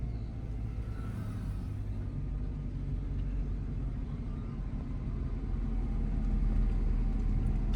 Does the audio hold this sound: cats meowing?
no